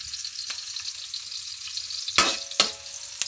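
Beef tongue, offal, meat and liver hit a hot pan with a steady sizzle, broken by a few sharp bursts of spattering as pieces drop in or are stirred.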